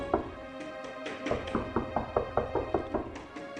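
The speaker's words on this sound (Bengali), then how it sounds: "অন্ধকারে নিস্তব্ধতা ভেঙে শুধু দরজা ধাক্কানোর আওয়াজ আসছে" Knocking and banging on a door as a story sound effect: a quick run of even, hollow raps, about four per second, sounding close and fairly loud.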